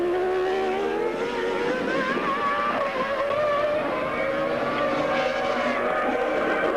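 Formula 1 cars at speed during qualifying for the 1996 Argentine Grand Prix, several engines overlapping in a steady, dense whine that holds loud throughout with shifting pitches as cars pass.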